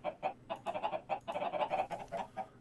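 Several chickens in the video game Minecraft cluck in quick, busy bursts, a steady stream of short clucks close by with no other sounds.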